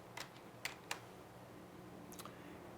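A few quiet computer keyboard keystrokes, a short cluster of clicks followed by one or two more, pressing a key combination in a quiet room.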